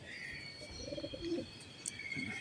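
Large pigeons kept in a loft give soft, low coos, faint and brief, alongside a few light chirps from nearby birds.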